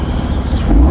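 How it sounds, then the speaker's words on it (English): A Porsche 911 Carrera's engine revs close by, a loud brief low roar that swells upward over about a second. "I rev it."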